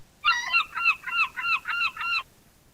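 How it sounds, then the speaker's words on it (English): Short AI-generated seagull call, a run of seven or eight squawking honks in quick succession over about two seconds, loud and close against a quiet background. "not the same seagull sound effect being played every time"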